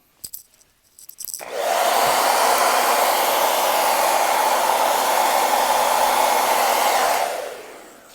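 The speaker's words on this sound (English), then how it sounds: "you can dry it in a few moments with a hairdryer" After a couple of faint clicks, a hair dryer drying watercolor paper whooshes on and blows steadily and loudly for several seconds before winding down.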